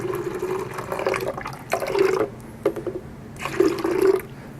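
Vegetable juice poured into a blender as a green smoothie base, a close liquid splashing and gurgling in uneven bursts with short pauses between pours.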